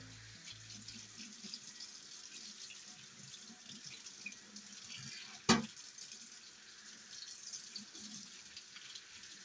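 Hot water runs steadily from a sink tap during kitchen cleaning, a continuous hiss and splash at moderate distance, with a brief louder burst midway.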